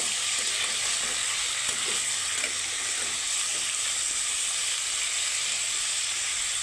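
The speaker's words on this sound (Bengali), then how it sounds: "কারকলগুলো একটু ভেজে নেব।" Pieces of teasel gourd (kakrol) fry in hot oil with a steady, bright sizzle and hiss. The crackle stays even and close throughout, with no talking.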